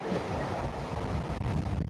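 Heavy surf from post-tropical cyclone Lee crashes ashore on the Maine coast, a continuous loud roar of breaking waves mixed with buffeting wind noise on the microphone, with no pauses.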